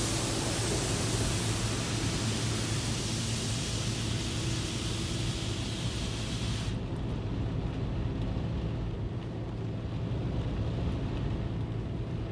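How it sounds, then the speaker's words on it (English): A high-pressure rinse sprays water inside an automatic soft-cloth car wash in McKeesport, Pennsylvania, producing a dense, loud hiss. Partway through it turns sharply duller and more muffled. "high pressure rinse, wash."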